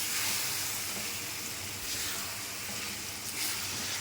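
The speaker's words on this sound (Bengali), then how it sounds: "একটু তেল দিয়ে নাড়তে হবে অল্প একটু সময়" Chalta pickle stirred in a little oil in a pan, an even, moderate hissing sizzle with faint stirring swells, close and continuous, no voices.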